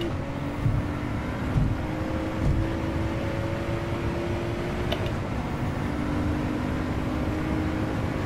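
Ford GT engine in Gran Turismo 7, a steady droning engine hum held at high revs with a faint whine, fairly loud and continuous with small bumps, no speech.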